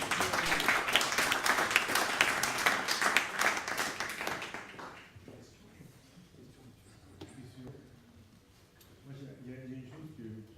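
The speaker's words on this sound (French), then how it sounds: "votre applaudissement me fait très plaisir" Lecture-hall audience at a popular university talk on the biosphere claps heartily for about five seconds, then the applause fades out and a voice takes over, speaking alone.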